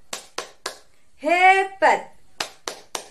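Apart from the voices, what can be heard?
children clapping hands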